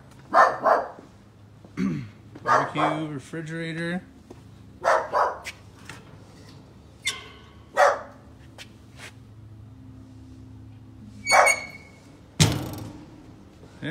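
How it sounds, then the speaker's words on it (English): A guard dog at a house for sale lets out scattered, sharp barks over several seconds while a person talks nearby, with a door sliding or knocking in between. "Guard dog."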